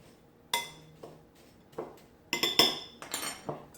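Light metal clinks and taps ring out at irregular intervals, with a quick cluster in the middle, as a utensil stirs baking powder into dry ingredients in a bowl. The sounds are close and fairly quiet, with no talking.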